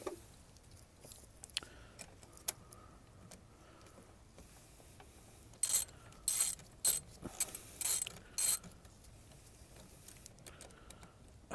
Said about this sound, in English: So we're gonna tighten it up.